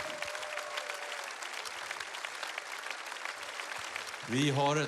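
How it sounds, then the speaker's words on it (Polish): An audience at the Baltic Song Contest 2014 claps in a sustained round of applause for the jury chair and the mayor. The clapping fades slightly before an amplified voice starts speaking near the end. "Brawa dla nich."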